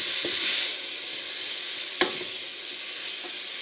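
Ingredients being stirred in a pan for a savoury cake with endives, bacon lardons and cheese, a soft continuous sizzle-like hiss with one sharp utensil knock midway and fainter taps around it.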